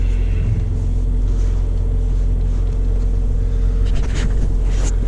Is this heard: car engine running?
yes